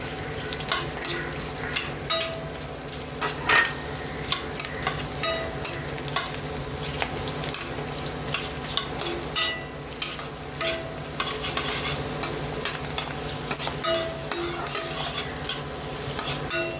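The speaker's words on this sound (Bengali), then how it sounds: "এবারে আমি এই তেলের মধ্যে ছোট একটা পেঁয়াজ দিয়েছি, পেঁয়াজটাকে আমি ভেজে নিচ্ছি।" A small onion fries in hot oil for a Bengali kolmi shaker ghonto, crackling and sizzling steadily while a utensil scrapes and stirs through it with frequent sharp clicks, up close and with no talk.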